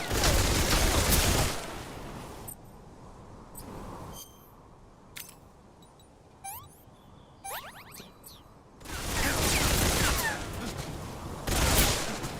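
Rapid bursts of gunfire in a Metal Gear video game, loud volleys at the start and end with scattered single shots and small effects between, under brief player chatter.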